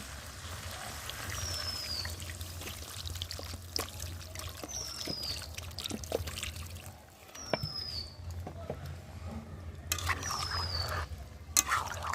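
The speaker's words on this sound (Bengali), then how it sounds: "এবার এর মধ্যে জল দিয়ে দেবো।" Water trickles and pours into chicken kosha cooking in a pan, a faint, steady wet splashing with occasional clinks of utensils.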